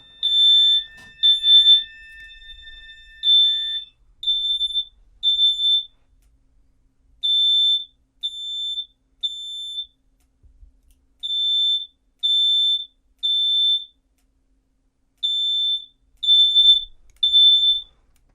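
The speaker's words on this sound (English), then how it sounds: "It's a charming little mini horn" A small fire alarm mini horn beeps in shrill, high-pitched bursts during a system test, mostly in groups of three with pauses between, loud against silence.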